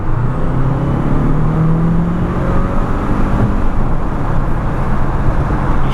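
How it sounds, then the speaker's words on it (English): A Mercedes-Benz GLB petrol hybrid with a 161 hp turbo engine accelerates on a night drive, a steady loud cabin drone of engine and road noise with rising whir throughout. "The turbos sound sick, guys."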